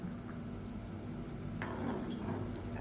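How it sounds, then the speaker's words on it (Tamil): Brinjal and curry-leaf kulambu gently sizzles and bubbles in a pan as a spoon stirs through it, a steady soft simmer with a few light scraping strokes near the end. "இப்போ நல்லா கலந்து விட்டுடலாம்."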